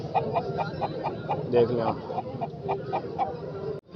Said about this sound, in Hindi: मुर्गा एक्टिव है माशाल्लाह से